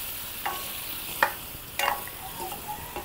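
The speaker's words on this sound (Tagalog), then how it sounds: "Lalagyan na natin siya ng soy sauce." Soy sauce, about four tablespoons, going into fried pork in a hot pan for pork humba, giving soft sizzling and a few sharp clattering stirs over a steady frying hiss, with no talking.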